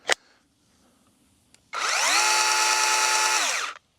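A budget $100 cordless pole saw makes a brief test run: one sharp tap, then a loud, steady high-pitched motor whine with a spin-up that holds for about two seconds before cutting off, alone and close by.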